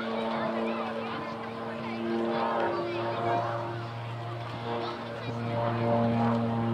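A Bronco aircraft's engine and propeller drone steadily through a steep climb to 1,500 feet, a loud continuous hum with strong tonal bands under a voice talking.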